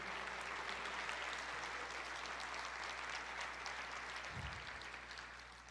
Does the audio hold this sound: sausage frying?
no